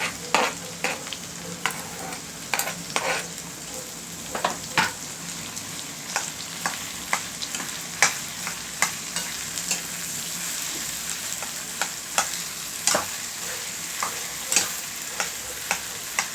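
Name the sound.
garlic tempering sizzling in a pan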